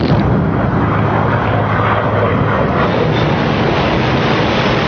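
A steady, loud roar of World War II Luftwaffe aircraft engines droning continuously over the English Channel, dense and unbroken with no voices.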